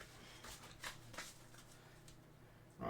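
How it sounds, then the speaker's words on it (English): Playing cards are shuffled quietly and close by, with a few soft riffling bursts and taps over a short stretch, ending in a louder snap. "Right, let's give these a good shuffle."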